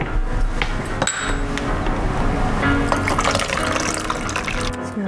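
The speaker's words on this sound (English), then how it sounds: "So now I'm going to pour our juices into the cocktail shaker." Juices for a pink cocktail pour into a cocktail shaker over ice, with a continuous liquid rush, ice clinks and a brief clatter, close and fairly loud, no talk.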